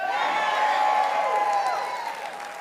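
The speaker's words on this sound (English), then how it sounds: "it was difficult to hear over the applause of our fellow patriots" Crowd applause and cheering at a political rally speech by a governor, a broad, steady roar of clapping that stays loud and then tapers slightly toward the end, with a sustained voice-like tone running through it.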